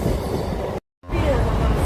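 A local train pulls away from a station with a continuous rolling rumble and wheel noise, broken by a brief silent gap before the rumble resumes.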